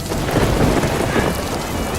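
Heavy rain pounds down in a dense, loud, continuous wash while thunder rumbles low underneath, with no voices.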